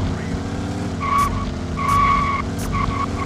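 A car in True Crime: Streets of LA revs loudly while its tires squeal in three repeated skids, each a sharp screech over a constant engine roar.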